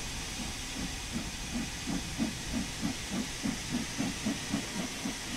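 A steam locomotive in Train Sim World 2 hisses steadily, with a rhythmic chuffing pulse beating evenly beneath the continuous steam noise, alone and at moderate level.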